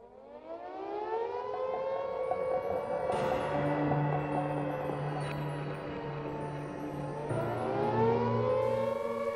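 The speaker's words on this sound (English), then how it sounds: "the siren sounded for the first time." An air raid siren sounds at the outbreak of war in 1939, winding up to a loud, sustained wail that rises and falls, heard alone with no voices.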